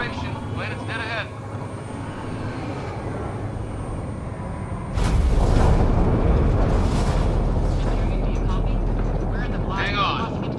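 Spacecraft plunging into a planet's atmosphere in Mass Effect Andromeda: a steady engine drone swells abruptly into a loud, roaring rumble that persists to the end, with voices talking over it before and during the surge.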